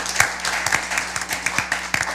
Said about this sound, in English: Please give the teams a round of applause when they introduce themselves.